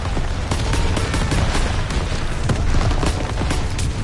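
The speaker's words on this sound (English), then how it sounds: "Artillery barrage!" A WWII video game artillery barrage: heavy, close explosions and gunfire pound without pause, thick booming impacts overlapping into a loud, continuous roar.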